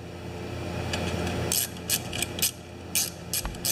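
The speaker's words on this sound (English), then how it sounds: "1/4 inch ratchet, 10mm socket" A 1/4 inch ratchet with a 10mm socket works on a Makita G2400R generator, its sharp rapid clicks coming in several short bursts close up over a low steady hum.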